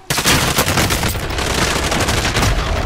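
Sustained enemy gunfire in a shooter game, loud, close volleys of rapid shots overlapping into a continuous barrage that starts abruptly and keeps going.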